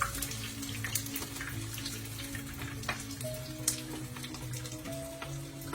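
Prawn and turmeric vegetable fritters frying in hot oil in a pan, a soft, steady sizzle and crackle with occasional louder pops, alone without talk.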